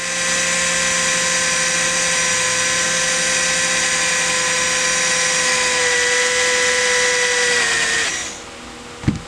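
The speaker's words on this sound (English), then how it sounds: "You're going to take a drill with a 5/32 drill bit in it, and we're going to drill it out." A handheld drill fitted with a 5/32 bit whines steadily while drilling out a rivet on a Marvin top-hung sliding patio door screen, then spins down and stops with a sharp click.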